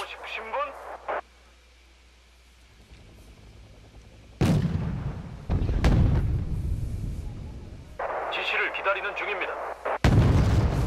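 Mortar and artillery fire in the war strategy game Wargame Red Dragon: heavy booming blasts with long rumbling tails, one near the middle and another at the end, between stretches of radio chatter and talk.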